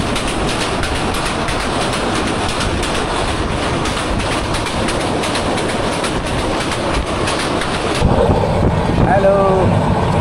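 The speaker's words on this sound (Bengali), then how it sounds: "আমাদের ট্রেন কিন্তু বেশ ভালোই গতিবেগ নিয়ে চলছে।" Upokul Express train running at speed between Dhaka and Noakhali, heard from on board as a loud, steady roar of wheels on track. Wind rushes past throughout, and a brief faint tone comes in near the end.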